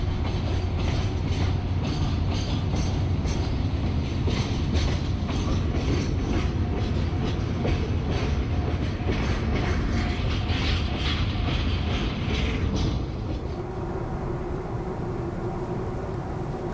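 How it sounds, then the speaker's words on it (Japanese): Freight train hauled by a JNR EF64 1000 series electric locomotive rumbles past close by, loud continuous rolling with rhythmic wheel clatter, fading to a lower rumble near the end. "国鉄の電気機関車 EF64 1000番台が牽引するレトロな貨物列車でもある。"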